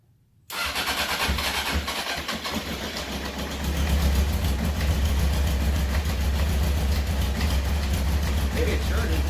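A 1993 Honda CBR900RR motorcycle engine, with choke on after carburetor work, fires up after a silent start and settles into a steady, loud idle that rises slightly partway through, with talk over it.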